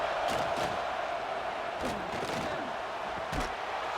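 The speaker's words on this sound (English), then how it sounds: "This crowd is trying to inspire this defense to make a big red zone stop." A stadium crowd in a college football video game roars steadily, a broad wash of cheering noise with a few brief louder bursts, moderately loud and continuous.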